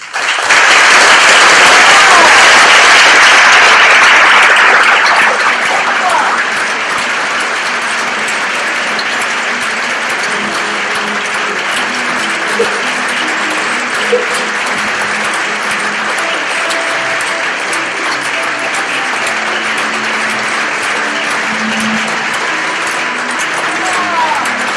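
Loud, full applause from an audience at a Dance Hall of Fame induction, strongest in the first few seconds, then settling into a steady, slightly softer ovation that continues throughout with occasional crowd murmurs.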